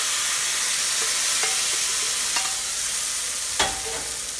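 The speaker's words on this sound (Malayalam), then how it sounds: "ഇപ്പോൾ ഈ കടുക് വറുത്തത് പച്ചടിയിലേക്ക് ഒഴിച്ചു കൊടുക്കുകയാണ്." Mustard seeds fried in oil are poured into a cashew nut pachadi, producing a loud, continuous close sizzle with a few brief clinks of a spoon or pan.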